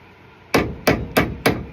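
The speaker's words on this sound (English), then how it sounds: "To hit the bushings out, I'm also going to be using the drift and kind of doing it at an angle." A hammer strikes a drift to knock door hinge bushings out of a 1970 Plymouth Barracuda 340, giving four sharp, loud metallic blows at an even pace, close up and with no voices.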